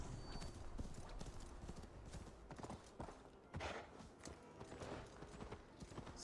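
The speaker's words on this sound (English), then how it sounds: "Watch out for the horse." Horse hooves clip-clop steadily and close by in Assassin's Creed Valhalla, during a Norse funeral gathering, over a busy background of game ambience.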